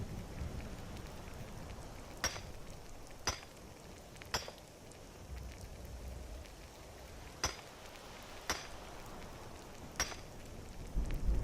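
Night rain falls in Skyrim as a steady soft hiss, broken every second or two by sharp, crisp drip taps, with no voices.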